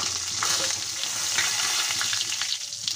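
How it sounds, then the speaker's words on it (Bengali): Bay leaf, cumin and cinnamon sizzle loudly in hot oil that was just used for frying potatoes for a village-style chicken curry, a steady bright crackle with a few sharper pops and no voices. "এখন আমি যে তেলের মধ্যে আলু ভেজেছিলাম সেই তেলের মধ্যেই ফোড়ন দিয়ে দেব তেজপাতা,"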